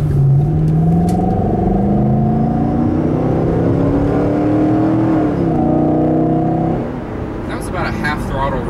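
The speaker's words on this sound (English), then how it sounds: "that was about a half throttle run to 60." 2010 Ford Mustang GT Premium pulling at half throttle up to 60 with an audible intake tube, a rising engine drone that steps through gear changes and then eases off, heard close from inside the car.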